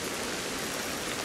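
Steady, dense rain in the video game Ancestors: The Humankind Odyssey, a broad hissing wash that fills the whole moment without letup, loud and even, with no voices over it.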